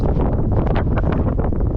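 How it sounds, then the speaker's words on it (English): Strong wind roars and buffets the microphone continuously, a loud, broadband rushing with gusty swells throughout, while riding a Honda Trail 125 motorcycle into Colorado. "It's incredibly windy"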